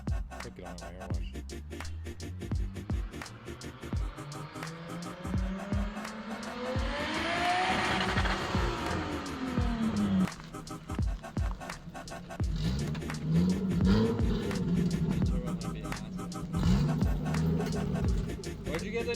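Turbocharged 1JZ engine in a Toyota Cressida, heard nearby as it idles, swells into a rising and falling rev around the middle, then settles back to a rough, steady drone.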